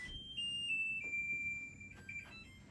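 A kitchen timer goes off while bread bakes, sounding a steady high electronic beep tone held in repeated pulses, clear and fairly close in a quiet room.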